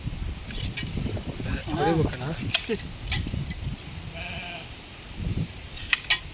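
A sheep being washed outdoors bleats a few times, with wavering calls rising over the low murmur of people talking and general outdoor noise.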